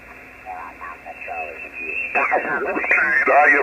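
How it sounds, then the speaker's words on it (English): A single-sideband voice signal comes in on an Elecraft KX3 radio transceiver during field day activity, giving narrow, band-limited speech from the receiver that grows louder toward the end. "really killer sounding receive SSB coming in there"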